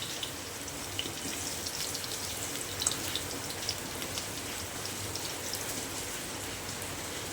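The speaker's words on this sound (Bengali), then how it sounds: "আলুটাকে আমি এরকম একটা ছাঁকড়ার সাহায্যে তেল থেকে ছেঁকে তুলে নিচ্ছি।" Boiled potato pieces fry in hot oil with a steady, dense crackling sizzle while a strainer lifts them out, adding a few faint clinks. The sound is continuous and fairly quiet.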